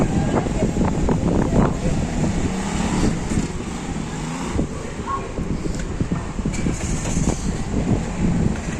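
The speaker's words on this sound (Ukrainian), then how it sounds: "Сьогодні вітер, хоч уже й теплий, але вітер, спекотний вітер." Hot, gusty wind buffets the microphone steadily in a street in Mindelo, Cape Verde, with someone talking over it and faint rumbling traffic in the background.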